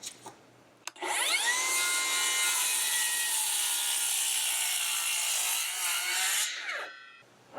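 A timber post is sawn for a deck beam notch, a loud continuous power-saw whine biting through the wood for about five seconds, with a brief knock before it starts and the motor spinning down at the end, close up.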